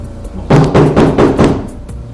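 Five quick, heavy knocks land on a door in a close, loud burst inside a home, standing alone against quiet room tone.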